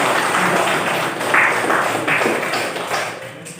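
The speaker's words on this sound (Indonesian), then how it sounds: "Tepuk tangan dulu." Children clapping hands in a classroom, a loud, continuous wash of many small hands applauding together, close and dense with no talking over it.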